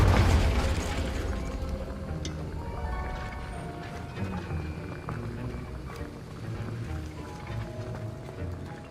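Spell blasts erupt in the video game Hogwarts Legacy, a loud initial boom fading into rumbling, crackling debris and scattered pops, with faint talk mixed beneath the effects.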